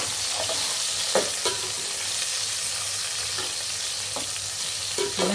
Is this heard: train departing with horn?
no